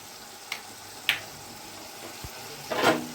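Sugar, turmeric and ginger paste hit hot oil in a pan with a soft, quiet sizzle, broken by a few sharp clinks of a utensil and a louder hiss as the mixture is stirred near the end.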